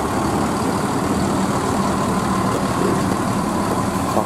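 A PO Haryanto intercity bus on the Pekalongan–Kajen route, a front-engined Mercedes-Benz OF 1623 chassis with Rexus bodywork, idles at the departure point with a steady, close, unbroken diesel rumble and no talk.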